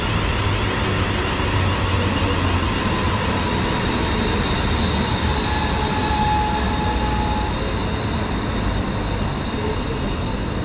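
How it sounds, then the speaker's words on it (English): An East Midlands Railway Class 360 electric unit on the Corby service rolls into Luton station with a steady rumbling roar and a thin whine, sustained and close for the whole stretch. "arriving in now is the 1339 East Midlands Railway service to Corby"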